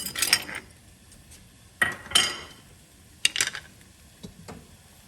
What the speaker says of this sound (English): I'm going to stir these a little bit more so they don't get lumpy